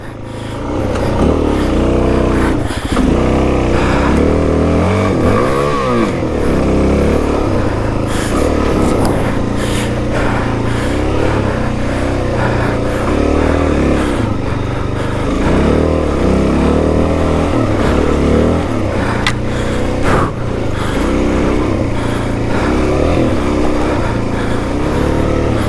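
A Suzuki DRZ dirt bike rides through mud at night, its single-cylinder engine revving and bogging continuously, rising and falling with throttle over a long stretch, loud and close throughout.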